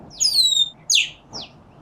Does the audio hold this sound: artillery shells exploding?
no